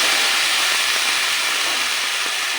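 Tomato, ginger and green chili paste sizzles in a pan while being stirred for matar paneer, a loud, continuous frying hiss with no talking.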